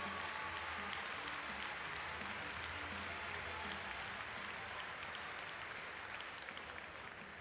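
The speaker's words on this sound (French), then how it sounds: "vous applaudissez Margot et à travers elle" Spectators at the Bordeaux international indoor show jumping derby applaud a horse owner, a long, steady wash of clapping from a large arena crowd, heard at a distance with a low hum beneath.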